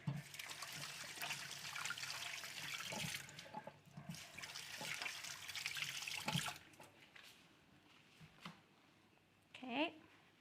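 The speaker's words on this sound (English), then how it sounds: "Let me just wash my hand." Hands are washed under a running kitchen tap while a turkey with stuffing is prepared, a steady broadband rush of water for about six seconds before it stops, followed by a few faint clinks and brief sounds.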